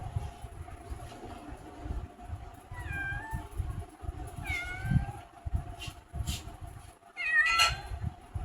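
Three house cats meow in a series of short, clear mews, some close and some slightly farther off, over a low rumbling background with scattered faint noise.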